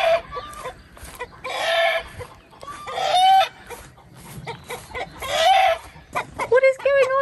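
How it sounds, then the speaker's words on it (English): Chickens in a backyard coop at a French chateau cluck and squawk in agitated, overlapping bursts, with a rooster-like call near the end, close and fairly loud. "What on earth is going on in the chicken coop?"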